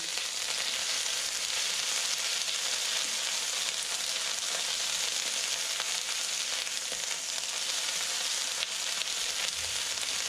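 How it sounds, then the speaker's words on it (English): Ginger sizzles steadily in a hot pan, a dense, continuous frying hiss that stays loud and even throughout with no voices. "And the ginger. Straight in, and you just want to let that cook a little bit."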